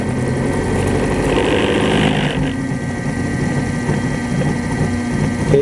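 A DC motor on a lab bench runs up as the supply is raised toward 40 volts, a steady loud electric whine and hum with a brighter high tone fading out partway through.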